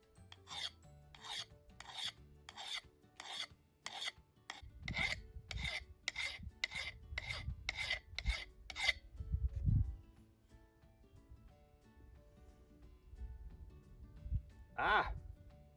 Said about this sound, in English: Okay, back to my sharpening.